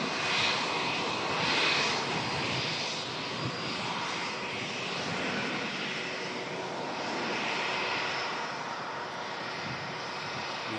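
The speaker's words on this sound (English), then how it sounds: "EasyJet rotates." An EasyJet airliner rotating on takeoff at Manchester Airport, its jet engines producing a loud, sustained broadband roar with slow swells for the full stretch, heard from the airfield without any talking.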